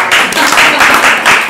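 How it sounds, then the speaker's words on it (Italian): Applause at a live Italian book presentation: a loud, dense wash of many hands clapping at once, continuous and close. "Un applauso"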